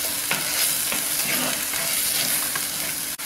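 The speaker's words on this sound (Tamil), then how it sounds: "நல்லா இந்த பச்சை வாடை போக இஞ்சி பூண்டு பேஸ்ட்டு வதங்கணும்." Ginger garlic paste sautéing in oil with chilli and curry leaves for a fish curry, a loud dense sizzle close up with rhythmic stirring scrapes, ending in a sharp brief knock.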